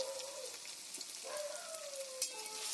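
Ground spices with pepper, turmeric and salt frying in a pan for a paneer filling, a soft, steady sizzle with faint crackle and light scraping, fairly quiet and without speech.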